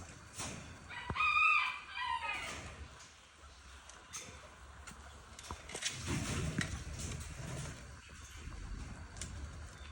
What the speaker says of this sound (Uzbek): Nima deysizlar bu xo'rozga?